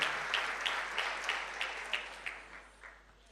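A church congregation clapping in bursts, with a series of rhythmic clap swells gradually fading out, heard from a distance in a reverberant room.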